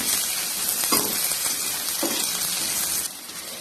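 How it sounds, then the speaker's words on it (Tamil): Garlic and dried red chillies sauté in a pan for garlic chutney, giving a steady close hiss and sizzle with a couple of soft stirring scrapes, no voices. "நல்லா நம்ம வதக்கிடலாம்"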